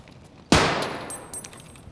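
A single sharp gunshot in Escape from Tarkov cracks loudly and close, then decays into a lingering echo over the next second and a half.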